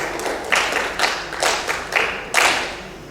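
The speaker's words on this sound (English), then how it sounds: "We want to applaud" Audience applause from a workshop crowd of about fifty participants in a hotel venue, with several bursts of clapping rising and fading in quick succession, fairly close and moderately loud.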